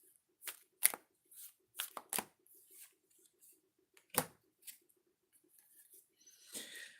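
Oracle cards shuffled and one drawn: scattered soft riffling and slapping card sounds come in short bursts, close and quiet, with pauses of near silence between them.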